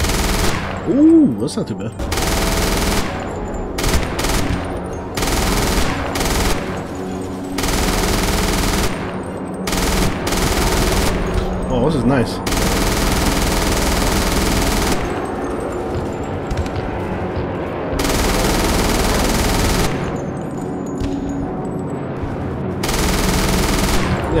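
An MG42 machine gun fires in a World War II beach-landing video game, long ripping bursts broken by short pauses, loud and close, with a player talking over the gaps.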